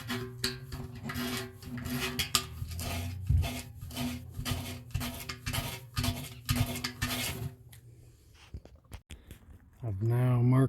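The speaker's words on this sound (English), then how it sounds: "Now I'm just going to sand the excess glue off." Sanding excess glue off a repaired tire sidewall gives a rapid run of close, rhythmic rasping strokes that stop partway through, leaving a few small knocks, with a voice speaking over the end.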